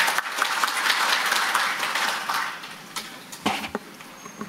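Applause from a seated audience at a Saemangeum tidal power policy forum greets the next presenter, a dense patter of clapping that fades after about two and a half seconds into a few scattered claps.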